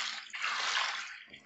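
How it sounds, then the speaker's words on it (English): Water pours steadily into a tub for hand-washing white towels, a continuous close rushing splash with no talk. "So we add more water"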